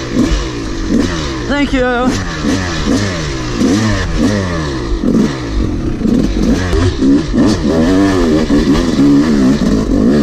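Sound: Yamaha YZ 250 dirt bike engine starting and revving

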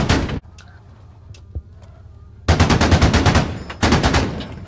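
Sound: gunfire in the video game Squad

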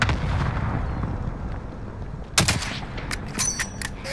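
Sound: cluster strike artillery explosions in Call of Duty: Modern Warfare video game

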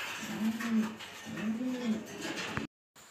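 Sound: racing pigeons cooing in a loft

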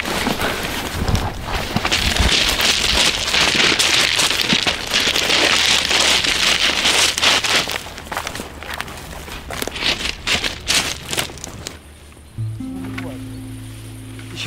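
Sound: rain falling

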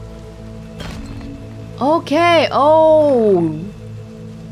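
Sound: rain falling in video game Weird West

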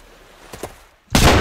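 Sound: shotgun firing in a video game

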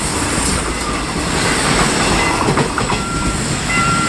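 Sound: passenger train passing

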